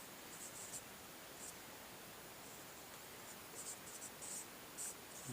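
Faint, steady scratching of chalk or marker writing on a board during a math lecture, a soft continuous hiss with light taps, with no talking.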